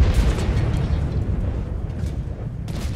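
A tank cannon fires in World of Tanks on the Airfield map during a T110E5 and E100 fight: a deep, heavy boom over a dense, rumbling battle bed, with a second sharp blast near the end.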